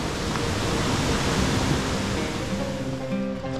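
A mountain river in Ticino, Switzerland, running high after rain, with a loud, steady, broadband rush of water heard close by throughout.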